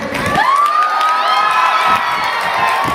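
A crowd of college students cheers and shouts loudly at a Teeyan festival celebration at a government polytechnic college in Batala, with a long whistle-like whoop rising above the steady roar.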